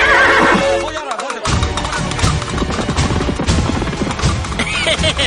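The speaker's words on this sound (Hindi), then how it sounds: "आपके घोड़े कभी मेरे घोड़े को पकड़ नहीं पाएंगे।" Several horses gallop with busy clip-clop hoofbeats, and a loud whinny rings out at the start. A brief gap follows before the pounding hooves resume, close and dense.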